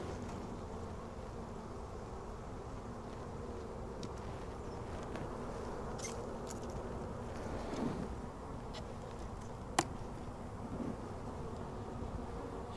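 Dense, steady buzzing of honeybees packed on a nuc frame, close and continuous, with a few faint knocks and clicks in the background.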